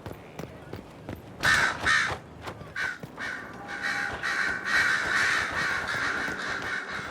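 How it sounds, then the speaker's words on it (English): Loud crows caw repeatedly in bursts in the video game Dragon Age: Inquisition, harsh and close, with brief pauses between calls and a faint murmur of background noise. "Loud birds."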